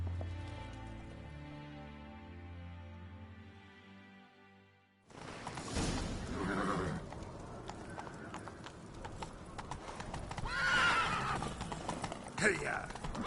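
Horse hooves clip-clop at a gallop with a sharp neigh in The Witcher 3, following a quiet musical stretch; voices call out over the pounding hoofbeats.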